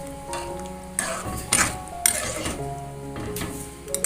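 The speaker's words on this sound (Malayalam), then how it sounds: "ഇനി ഇതൊന്ന് ഇളക്കിയെടുക്കാം." A spoon stirring a green mango and gelatin mixture in a pan, with scraping and clinking against the metal over a steady kitchen hum.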